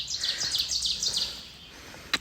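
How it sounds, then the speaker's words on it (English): Birds chirp in a quick, repeated series of high tweets at moderate distance after a storm on the Appalachian Trail, trailing off into quiet outdoor ambience with a brief knock at the end. "Just listen for the birds."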